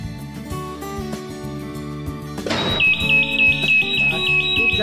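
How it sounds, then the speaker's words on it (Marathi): A winding-temperature-high alarm on an HT electrical panel during pre-commissioning tests: a steady electronic tone starts partway through and keeps sounding, loud and piercing, over a continuous machine hum and background clatter. "हाय अलार्म झाला आहे, वाइंडिंग टेम्परेचर हाय अलार्म झाले, रिसेट करूया।"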